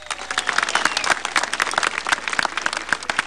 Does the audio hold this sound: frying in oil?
no